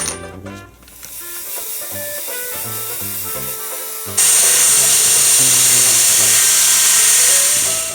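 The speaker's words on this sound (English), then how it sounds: "Alright, so I'm done with the belt sander now." A belt sander shapes a wooden slingshot rifle, cutting in suddenly partway through with a loud, continuous abrasive roar after a quieter opening; a melodic music bed plays underneath throughout.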